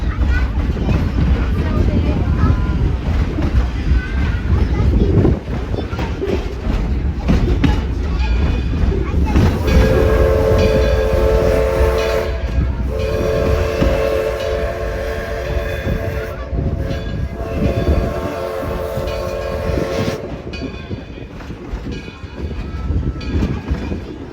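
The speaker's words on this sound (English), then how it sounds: "The locomotive pulling us today is our 1932 Edison." A 1932 Edison steam locomotive built by Ford pulls a passenger train on a heritage railroad, with a steady loud rumble and rolling wheel noise throughout and a sustained whistle tone in the middle.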